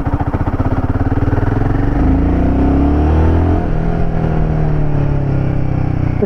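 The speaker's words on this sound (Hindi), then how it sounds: "So the bike is in second gear eight 10 kilometre per hour." Royal Enfield Himalayan 450 motorcycle accelerating hard in second gear from about 10 km/h, the single-cylinder engine note rising steadily in pitch, loud and close, then settling into a sustained higher drone.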